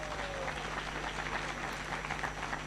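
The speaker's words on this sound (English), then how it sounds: "Let's applaud him." Steady applause from a graduation ceremony crowd, a dense even wash of many hands clapping that stays loud and constant throughout with no voices breaking through.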